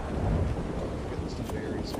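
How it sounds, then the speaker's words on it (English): Steady rain hisses alongside a low thunder rumble in the video game Ark Ascended Ragnarok, a dense continuous wash with no voices. "It is raining like it incessantly does in Ragnarok"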